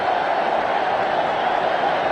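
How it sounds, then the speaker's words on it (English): Cricket crowd at a 2002 Champions Trophy match between India and Kenya roaring for Sanjay Bangar's fifty, a dense, steady wall of cheering and noise held at full level throughout. "The crowd is delirious."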